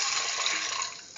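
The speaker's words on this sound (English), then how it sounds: "Pour in 200 ml of water" A short, steady hissing pour of 200 ml of water into a pressure cooker holding a curried chickpea and beetroot stew, close and fading at the end.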